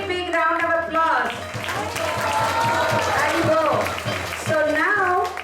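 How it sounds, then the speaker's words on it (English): An audience claps at a temple festival gathering in Atlanta, a dense, steady patter of applause lasting several seconds while people talk and sing over it. "a big round of applause"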